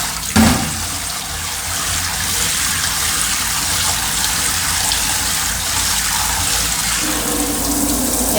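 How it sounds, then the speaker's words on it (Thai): Uncooked rice being rinsed in a pan or pot of water in a kitchen, a steady gushing and splashing water sound running continuously for several seconds, close and fairly loud, with a brief knock at the start. "มาล้างทำความสะอาดก่อนนะคะ แผ่นของเรา มาซาวน้ำทิ้งนะคะสักสองสาน้ำนะคะ"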